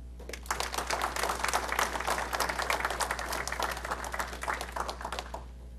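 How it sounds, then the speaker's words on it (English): A room at a Stanly County Board of Commissioners meeting breaks into applause for a retiring city worker, dense clapping from many hands that starts abruptly and thins toward the end, with a steady low hum underneath. "But I'd like y'all to give me applause for my buddy, Roddy Palmer."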